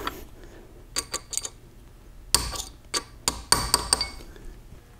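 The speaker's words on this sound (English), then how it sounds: "tap the snap ring in place a little bit" A snap ring is tapped into place on a Super T10 four-speed gearbox, sharp metallic clicks and light hammer taps in small irregular clusters, close and fairly quiet with silence between strikes.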